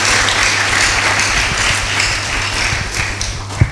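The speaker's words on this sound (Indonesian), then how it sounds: "Mari kita berikan tepuk tangan buat Tuhan Yesus ya" Congregation at a Pentecostal Sunday worship service claps for Jesus, a dense, loud wash of applause filling the room steadily for several seconds, with a low hum running underneath.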